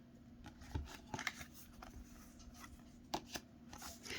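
A cheap Celestial Tarot deck is shuffled by hand, with soft papery riffles and sharp card snaps scattered irregularly over a few seconds, close and quiet against a faint steady hum.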